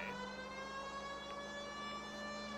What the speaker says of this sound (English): using the siren makes things a whole lot easier